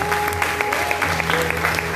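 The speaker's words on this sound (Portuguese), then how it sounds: "Palmas para Jesus." A church congregation applauds steadily during an evening worship service, with thick continuous clapping over soft sustained keyboard tones and a low hum.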